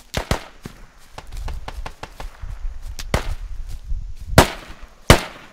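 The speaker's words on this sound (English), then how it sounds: "I just shot somebody top right window." Gunfire in the military shooter Squad, a series of sharp close rifle cracks in irregular bursts with louder isolated shots near the end, over low rumbling background.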